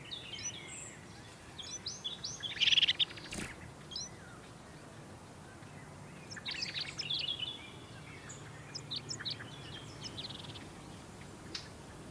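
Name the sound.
blue tit calling in the Canary Islands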